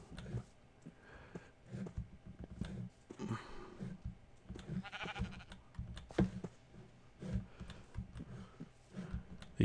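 Sheep bleat repeatedly in the farming game TerraFirmaCraft, a Minecraft mod, with several short calls scattered over clicking and soft background noise.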